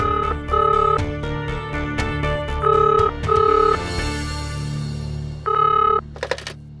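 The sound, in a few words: telephone ringing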